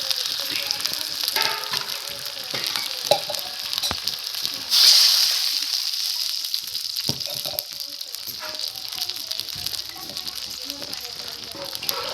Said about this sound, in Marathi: इथं तेल टाकून आपण जे वाटण होतं ते मस्त असं परतून घेणार आहे.